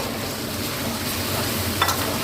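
Fried potatoes tossed into a hot pan and stirred, giving a steady, close sizzling hiss with soft scraping throughout and a brief sharper clatter near the end.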